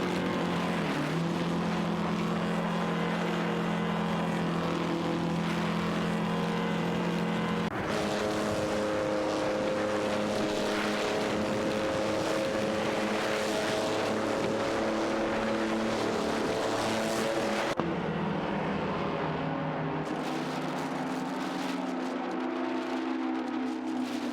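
Engines of race cars in a video game race drone continuously and loud, pitch shifting as several cars jostle for position through corners, with abrupt changes in tone where the view cuts between cars.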